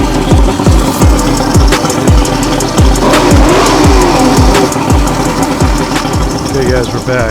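A 1980s Mercury 150 Black Max outboard boat engine runs loudly and steadily up close, with a rhythmic chugging knock throughout.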